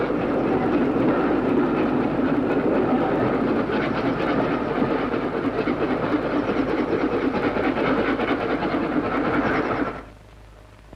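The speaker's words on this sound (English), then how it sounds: "discharges the rock into light railway trucks, which carry it to the extraction plant" Light railway trucks hauling rock at a gold mine on Kalgoorlie's Golden Mile, a steady continuous rumble and clatter of rolling wagons that holds for about ten seconds, then cuts off abruptly.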